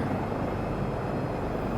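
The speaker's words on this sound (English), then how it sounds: "That was kind of a cool little flight in a helicopter." A helicopter in Microsoft Flight Simulator 2024 comes in to land on a Glacier Park tour with a steady, close rotor and engine rumble.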